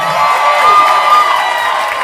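A comedy club audience cheers and applauds for a stand-up comedian, a steady, dense wash of crowd noise and clapping that fills the room without a break.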